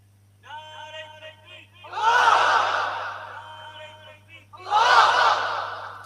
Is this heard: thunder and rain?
no